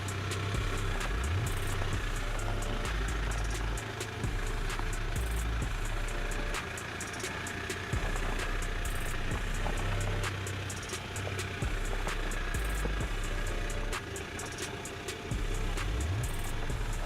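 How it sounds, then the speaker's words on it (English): A diesel Toyota Prado grinds through an off-road test run, its engine droning steadily at close range with intermittent low rumbles and mechanical knocks throughout, no voices. "Another run of the diesel Prado"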